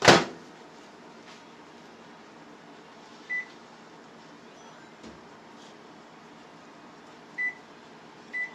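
Galanz air fryer being set, with a sharp click at the start followed by a few short, thin electronic beeps spaced seconds apart over a steady low fan hum.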